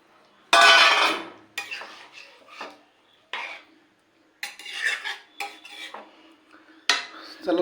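Used utensils, pots and dishes being washed: close, uneven clanks and clatters of metal ware with scraping and rubbing between them, arriving in short bursts separated by brief pauses.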